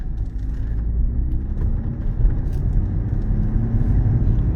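A 2024 Chevrolet Corvette Stingray 2LT cruises on a test drive, heard from inside the cabin as a steady low road and engine rumble with no talking.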